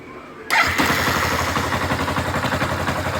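A Yamaha SZ motorcycle engine with a loose rocker arm bearing starts abruptly after a brief quiet moment, then settles into a close, loud idle with a rapid rhythmic clatter and grinding-like mechanical ticking.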